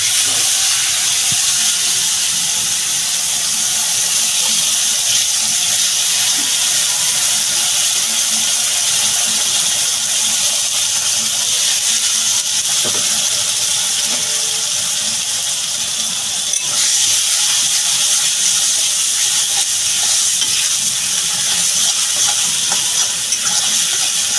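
A spice paste with coriander and cumin powder sizzles in hot oil, a continuous loud hiss and crackle with faint stirring scrapes running unbroken throughout.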